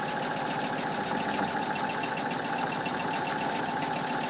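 A sewing machine runs continuously, stitching quilt block fabric for a Double Wedding Ring block with a quarter-inch seam. It makes a rapid, even mechanical whir and chatter, close and steady, with no talking.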